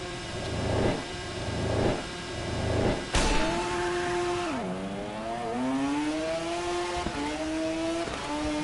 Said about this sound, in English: did you know you're actually revving his bike as well?